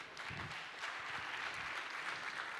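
Steady applause from a conference audience at a French housing assembly as panelists walk up to the stage, dense continuous clapping at even level throughout.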